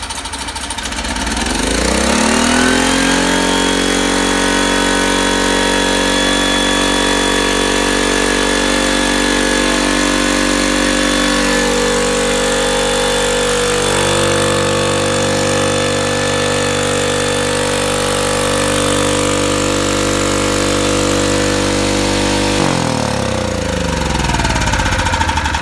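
A Homelite generator rescued from the dump starts on its first pull and runs, its engine revving up into a loud steady hum for about twenty seconds before dropping off near the end, with no talking.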